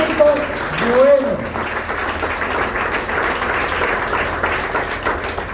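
Church congregation clapping together during a sermon, a continuous crowd applause with a voice calling out briefly at the start, steady throughout.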